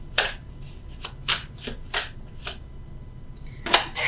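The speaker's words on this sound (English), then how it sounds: "Let's get those extra cards." Tarot cards shuffled by hand, heard close up as a series of crisp riffling bursts, each separated by a short pause, with a louder flurry at the end.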